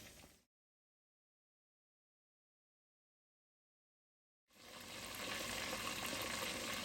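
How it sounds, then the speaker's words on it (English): Pork chops frying in hot oil in a pan, a steady loud sizzle that cuts out to silence and then returns, with no voices over it. "got the pork chops cooking. We're going to let them fry down."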